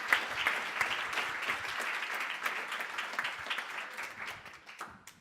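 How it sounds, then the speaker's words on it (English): Audience applause for a group of junior and secondary school students, steady sustained clapping from a room full of people, fairly close and continuous for the whole stretch before tapering slightly at the end. "Can we give the students another round of applause,"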